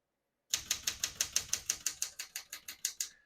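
A 1975 Smith-Corona Galaxie 12 portable typewriter clacks through about fifteen crisp, evenly spaced keystrokes, close and clear against silence, with no speech.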